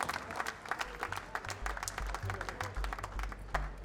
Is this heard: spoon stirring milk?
no